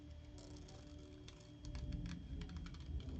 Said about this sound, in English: I feel like they kind of like tear at my paper sometimes rather than cutting it smoothly